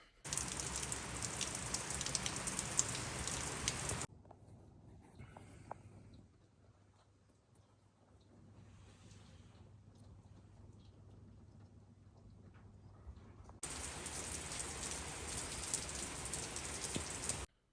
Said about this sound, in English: it is raining, raining, raining